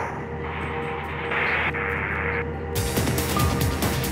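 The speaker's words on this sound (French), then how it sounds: "Il y a un hélicoptère qui approche" A helicopter approaches in the Mirror's Edge video game, first as a steady engine drone, then as a broader, rougher roar that swells in the last second and a half.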